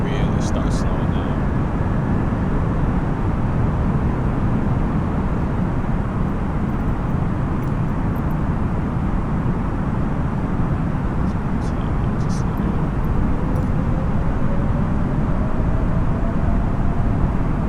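An airplane engine drones steadily and loudly in Microsoft Flight Simulator 2020 as the gear drops, a continuous low rumble with a few faint clicks, while someone talks over it.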